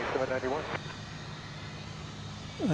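A Cessna 182S Skylane flies maneuvers near DFW Airport, its piston engine a steady, distant broadband drone. A voice talks over it at the start and again at the end.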